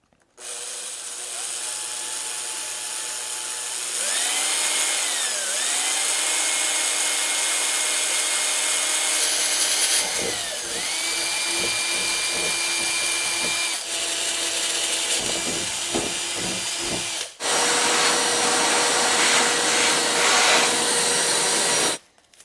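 A power drill with a 4.5mm bit whines at a rising and falling pitch as it bores holes for reservoir mounts in a painted, taped panel, with loud sustained drilling runs, brief pauses and some grinding bursts.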